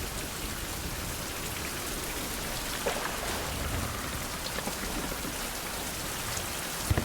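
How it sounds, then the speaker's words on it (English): Rain in the survival video game Survival: Fountain of Youth, a steady, full hiss of falling drops with a few faint low rumbles, continuous and close with no speech. "And the rain continues."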